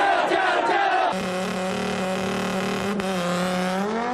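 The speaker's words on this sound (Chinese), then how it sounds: "汽笛声响，打归号，引擎轰隆隆，冲出起跑线，直线狂飙" A race car at the start line of a zero-to-400-metre acceleration run, its engine roaring loud and steady, the pitch holding and then climbing, with crowd noise mixed in.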